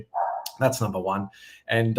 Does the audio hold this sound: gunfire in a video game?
no